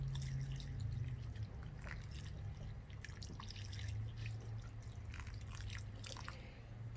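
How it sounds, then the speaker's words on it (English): Water from a watering can soaking planted garlic, a steady soft splashing and trickling with scattered drips, close and fairly quiet, alone without speech. "Now all I need to do next is pour some water over it."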